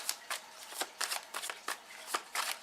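Tarot cards are shuffled and drawn close up: quick papery riffles and flicks in a brisk irregular rhythm, fairly quiet, with no voices.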